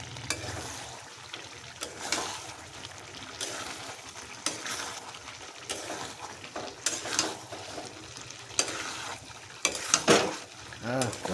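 Chicken frying in a pan while being stirred, a steady sizzle broken by repeated scraping and clinking strokes of the utensil against the pan.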